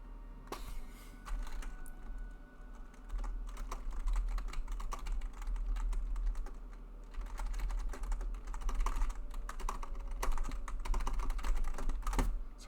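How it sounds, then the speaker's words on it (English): Rapid typing on a computer keyboard, a dense run of quick key clicks with occasional sharper strikes over steady low hum, continuing throughout without talk. "Sorry if you hear rapid typing."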